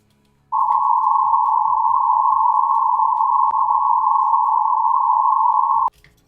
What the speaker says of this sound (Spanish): Este es el resultado de filtrar una señal de ruido blanco